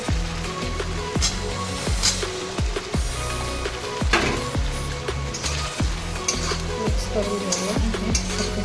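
Eggplants hit a hot oiled pan and fry in a steady, close sizzle, with sharp scraping stirs of a utensil recurring throughout.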